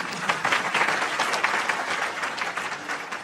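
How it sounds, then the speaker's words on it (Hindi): An audience at a spiritual talk claps in sustained applause, a dense, even patter of many hands continuing steadily throughout. "तो बजाओ ताली, खेलो खेल"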